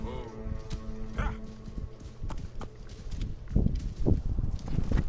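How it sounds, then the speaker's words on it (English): Horse hooves clop in Assassin's Creed Origins, a run of thudding hoofbeats that grows louder toward the end over a soft musical tone, with faint talk under it. "Let's mount up on the bandit's horse"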